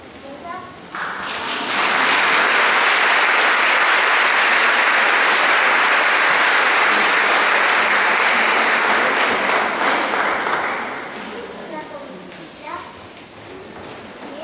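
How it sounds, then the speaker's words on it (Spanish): A crowd at a worshippers' gathering breaks into loud applause that swells and holds for about ten seconds before fading into scattered claps and murmurs. "con nuevamente un fuerte aplauso"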